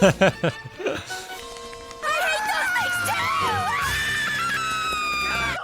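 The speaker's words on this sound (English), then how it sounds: "That sounded like someone screaming." Someone screams in a One Piece anime episode, a high, wavering cry amid shouting and crowd-like voices. It is preceded by short choppy vocal bursts, and the screaming is loud and sustained near the end.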